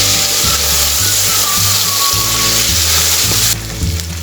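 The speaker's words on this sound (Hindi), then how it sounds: "अब अदरक और लहसुन का पेस्ट ऐड कर देते हैं।" Ginger garlic paste sizzles in a pan with chopped capsicum and green chilli for a chilli paneer dish, a loud, steady frying hiss with a low hum beneath and a slight drop near the end.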